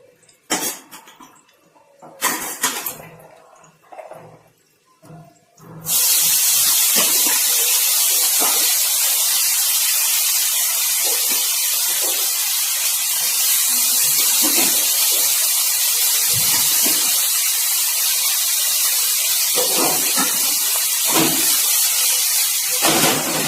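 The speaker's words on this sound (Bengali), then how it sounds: "এইবার এতে একে একে ভেজিটেবলস গুলো আমি দিয়ে দেবো।" Vegetables tipped one by one into a hot pan with garlic, setting off a loud, steady sizzle that starts abruptly after a few scattered clinks and stays continuous to the end.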